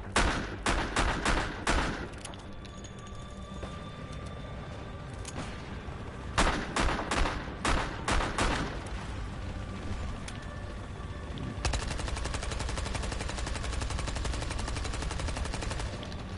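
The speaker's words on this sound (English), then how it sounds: "there's another heli shooting at it" Video-game gunfire from an attack helicopter: loud bursts of rapid shots in clusters, then a sustained continuous rattle of machine-gun fire toward the end, with no talking.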